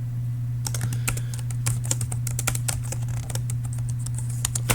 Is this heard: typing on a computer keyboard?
yes